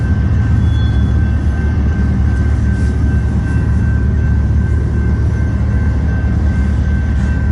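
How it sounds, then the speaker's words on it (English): A loaded westbound coal train rolls past near Lincoln, Nebraska as a loud, continuous low rumble of rail cars that stays steady throughout, with no voices. "Watch this train go by"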